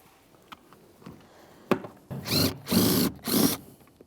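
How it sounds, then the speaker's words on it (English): A power tool whirs in three close, loud bursts while backing out a small 10mm headed bolt near the rear seat belt buckles of a 2003-2007 Honda Accord, after a few faint clicks and with no talking. "Inside this area, you'll find a small 10mm headed bolt. Go ahead and remove that."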